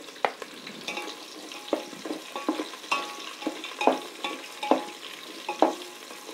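Onions and green chillies frying in oil for veg biryani, with a steady sizzle broken by repeated scraping and stirring strokes of a spoon in the pan, close and moderately loud.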